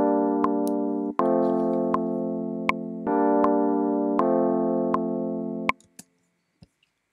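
A series of sustained synth chords in Logic Pro X, each struck and held for about a second, with modulation wavering more strongly from chord to chord, ending in silence.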